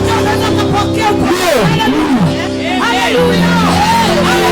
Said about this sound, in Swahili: Unatoa katika kelele za shangwe.